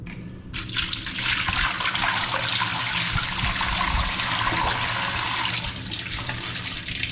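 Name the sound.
water poured to rinse sand out of a pipe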